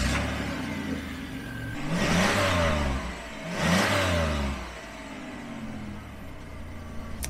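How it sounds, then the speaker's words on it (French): A 1991 Chrysler Imperial with a 3.3-litre V6 starts and revs twice, each blip rising and falling smoothly, then settles back to a steady idle, close and moderately loud. "On sent qu'on a quand même affaire à un V6."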